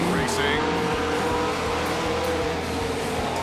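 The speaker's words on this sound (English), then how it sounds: "the roar of those 700 horsepower ASCS spec engines completely takes them over with each lap" Sprint car engines, 700-horsepower ASCS spec units of the American Sprint Car Series Northwest Region, roar steadily on a race track in a continuous loud drone, with a voice talking over it.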